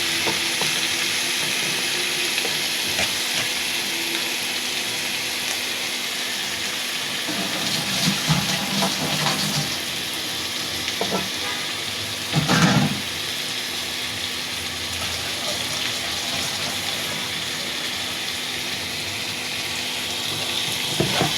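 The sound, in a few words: eel fish frying in spice paste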